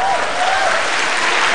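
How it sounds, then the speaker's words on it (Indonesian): An audience at a Mata Najwa on-stage event at ITB Bandung breaks into steady, dense applause, loud and sustained throughout. "Oke, kita kasih tepuk tangan."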